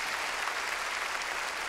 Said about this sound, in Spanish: démosle palmas fuertes al Señor